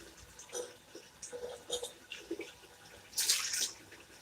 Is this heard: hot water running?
yes